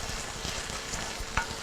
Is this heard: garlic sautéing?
yes